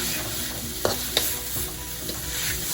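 Shiitake mushrooms stir-fried in a pan for fried spring rolls give a steady close sizzle, with a few sharp scrapes of the utensil against the pan.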